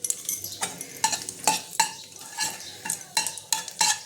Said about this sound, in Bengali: কড়াইতে আমি আরেকটু তেল দিয়ে দিয়েছি। এবার আমি এর মধ্যে ফোড়নটা দেবো।